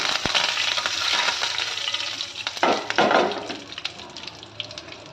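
Steady sizzling and crackling of tempering spices, curry leaves and dried red chillies frying in hot oil, loud and close, with a few louder spattering bursts midway and no talking.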